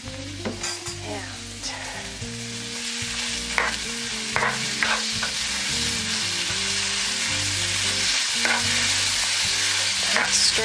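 Garlic and vegetables for pasta primavera sizzle steadily in a pan, with a spoon scraping and clattering through them in frequent strokes; the frying grows fuller and louder toward the end.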